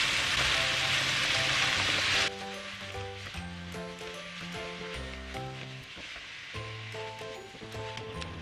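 Beef frying in a pan gives a steady, close sizzle that runs the whole time, loud hiss at first then settling under music with a plucked melody.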